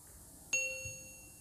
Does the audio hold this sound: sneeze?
no